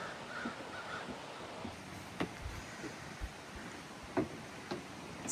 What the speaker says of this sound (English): I don't know where the crow's nest is, but it might be close.